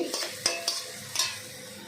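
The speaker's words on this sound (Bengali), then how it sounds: "গাজর ভেজে নিচ্ছি" Several quick spatula scrapes and clinks against a pan where carrots are frying, set over a constant low sizzle, heard up close without any speech.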